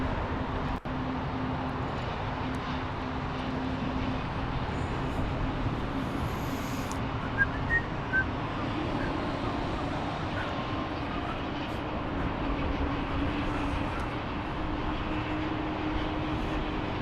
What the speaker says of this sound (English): there's an A220 landing right there